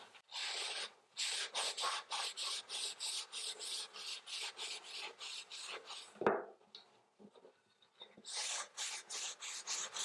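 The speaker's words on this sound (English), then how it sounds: "And then you're going to take a lint-free cloth again and just wipe away the excess." A lint-free cloth wipes excess milk paint off a wooden board in quick, rhythmic rasping strokes, close and clear, with a brief pause in the middle before the rubbing resumes.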